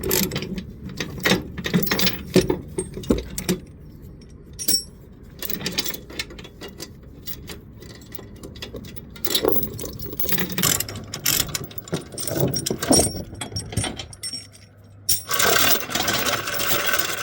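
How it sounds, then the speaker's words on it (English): Chain being unhooked from a Kubota 97-2 machine, loud close metallic clanking, rattling and ratcheting in uneven bursts throughout, with no talking. "So I'm going to unchain this machine and get to work"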